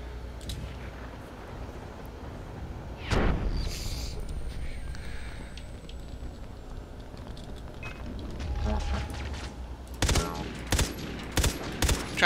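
Gunfire in the video game Far Cry 3 Blood Dragon during a helicopter attack level, scattered sharp bursts and single shots, louder clusters near the end over quiet background.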